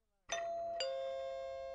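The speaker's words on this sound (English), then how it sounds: "Ah, the sound of my doorbell." A two-tone doorbell chime rings out in an advertisement: a bright ding followed half a second later by a sustained dong that rings on steadily, clear and alone against a quiet background.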